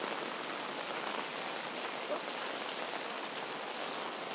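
Heavy rain falls in Geylang, Singapore, a dense, even hiss of downpour on the street that holds steady throughout, close and loud with no break.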